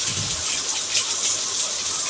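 Heavy rain pours down in a dense, steady rush of water in a city, close and loud, with no voices.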